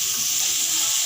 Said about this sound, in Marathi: हा कांदा परतत आलाय, तो लालसर होस्तोवर परतायचा।